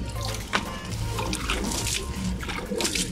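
Water is poured into a pigeons' drinking container, a continuous close splashing trickle with small bursts, with no talk over it.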